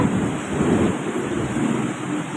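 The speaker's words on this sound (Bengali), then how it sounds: "বৃষ্টি জোরে হচ্ছে," Heavy rain pours down during a thunderstorm, a dense, steady roar that stays loud and constant throughout with no voices.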